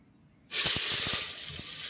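Oil with turmeric and salt heated for tempering bursts into a loud hiss as the washed greens or chicken hit the hot pan, a sudden sizzle that stays steady with faint clatter underneath.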